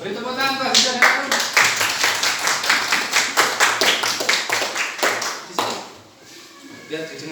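Students in an Indonesian classroom clap together in a rhythmic, evenly spaced beat, sharp close hand claps that stop near the end, followed by a brief pause and a voice speaking.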